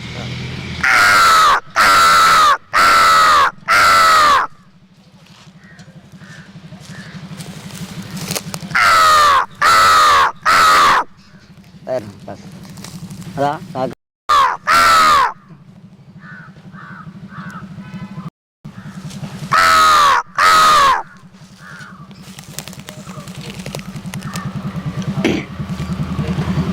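A man imitates crow calls in loud bursts of three or four harsh caws, with breathy pauses and throaty sounds between the sets.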